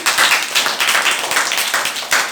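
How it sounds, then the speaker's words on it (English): Rapid, steady clapping from a group of children's hands in a classroom, close and lively, with no talking. "Come and give a big applause to them,"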